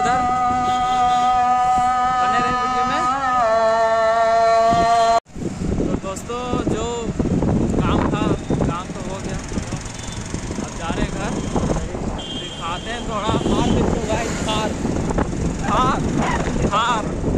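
Motorbike riding along a road in India with several friends aboard, loud continuous wind buffeting and engine rumble throughout, a harmonic tone early on, then a sharp cut into noisier road roar with people talking over it.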